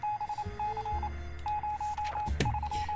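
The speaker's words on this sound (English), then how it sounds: "Ooh, some Morse code." Morse code blips from a radio in the video game 60 Seconds, a string of short clipped beeps in an uneven rhythm, then longer tones with a brief burst of static midway, close and clear with no talking.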